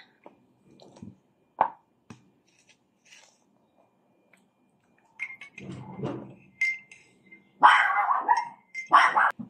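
Dogs waiting to be fed give a few sharp barks and yips in scattered bursts, close by, separated by quiet gaps and followed by a busier cluster near the end.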